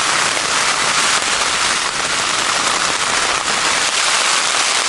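Heavy rain pelts a flooded winter camp on Dartmoor in December, a dense, continuous, close patter of drops with faint crackling and no voices.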